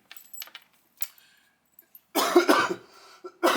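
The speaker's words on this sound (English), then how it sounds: "Sorry for coughing so much" Small clicks and rustles, then two loud, close coughing fits in quick succession.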